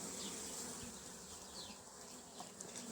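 Honeybees buzz around a hive during spring apiary maintenance, a faint continuous drone with occasional individual bees passing close.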